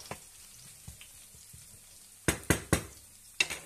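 Garlic fries gently in a pan for clam noodles, giving a faint soft sizzle broken by a few sharp, loud utensil knocks against the pan.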